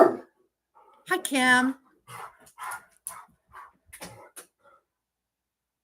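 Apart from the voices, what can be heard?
dog barking out the window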